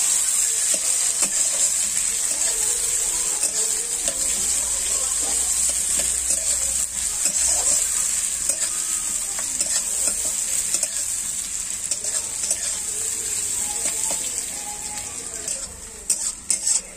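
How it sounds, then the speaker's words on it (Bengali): Eggplant frying and being stirred in a pan: a loud, steady sizzle runs throughout, with frequent soft scrapes and clinks of a utensil against the pan and no talk. "তো আমি এগুলো ভালো করে ভেজে নিচ্ছি"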